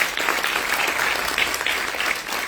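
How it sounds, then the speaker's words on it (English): An audience at an Odissi dance debut recital applauds a dancer with a full, even wash of clapping that carries steadily throughout at moderate loudness. "So another round of applause for Vishnupriya"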